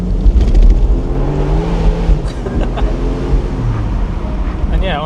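A Porsche 911 Spirit 70 with rear-wheel drive, driven on a cold day, its engine a loud continuous drone that rises and falls, with wind buffeting and a person talking partway through.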